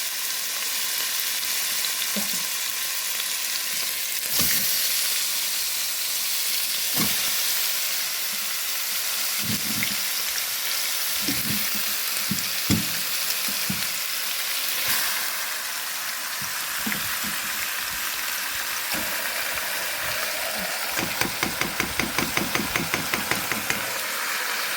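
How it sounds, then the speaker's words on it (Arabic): Chicken breast sizzles in a hot pan, a steady loud frying hiss that runs throughout, with occasional clinks and stirring sounds and a burst of crackling near the end. "احط بقى الصدر الاول"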